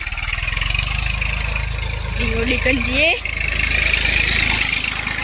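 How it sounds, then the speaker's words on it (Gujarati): A farm tractor engine runs with a steady, loud, close diesel chug throughout, while a person speaks briefly over it. "ટ્રેક્ટર જાય જોયું ટ્રેક્ટર જાય"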